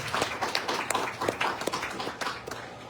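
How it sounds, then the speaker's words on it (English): Scattered clapping from an audience at a community meeting at a school, fairly faint and uneven, a modest round of applause with a few louder individual claps. "Can we give a round of applause for Bridget for breaking it down for us?"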